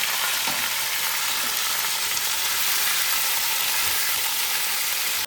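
Salted vegetables hit hot oil and fry with a loud, dense, steady sizzle that holds evenly throughout, close up and uninterrupted, cutting off abruptly at the end.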